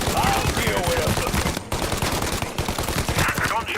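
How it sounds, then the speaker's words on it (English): Loud, dense bursts of gunfire from the Mafia Remastered video game, rapid overlapping shots for several seconds with a brief break, mixed with game voices. "Gunshots heard. Please respond."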